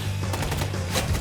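Rapid movie gunfire in an action scene, a loud, fast burst of automatic shots rattling over a low rumble, with no voices.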